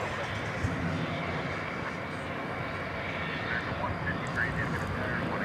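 America West livery Airbus A321 airliner arriving at DFW Airport at night from Atlanta, a continuous moderate engine rumble and hiss, steady throughout with faint background sounds.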